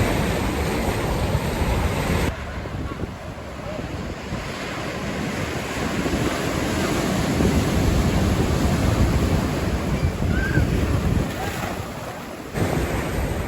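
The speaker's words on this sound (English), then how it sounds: "when the tide comes in and the waves start to crash in, you lose your walkway" Ocean waves crash and roll in with the incoming tide along a shoreline walkway, a loud, steady wash of surf with heavy wind buffeting the microphone throughout.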